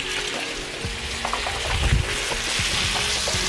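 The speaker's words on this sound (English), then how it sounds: "turn up my flame and throw my shrimp in" Shrimp hitting a pan over a high flame and frying: a loud, close hiss and crackle swells as they go in, with a few knocks and clatters over the sizzle, and no voices.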